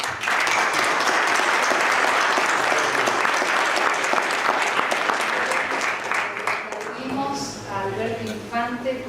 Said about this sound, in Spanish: merece un fuerte aplauso